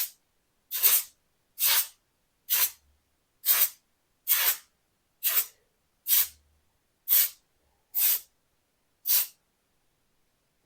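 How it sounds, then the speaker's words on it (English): Spray can aimed at the floorboards of an MGA roadster under restoration, giving about eleven short, sharp hissing bursts at a steady rhythm, each one about half a second long, close by and separated by silence. "let's see if I can hold this and spray"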